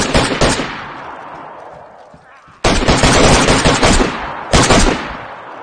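Gunfire in the survival video game DayZ: dense, loud bursts of shots, one sustained volley fading over two seconds, then a sharp renewed burst and a shorter one, with a voice briefly heard.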